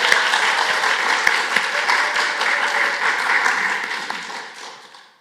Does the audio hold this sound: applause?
yes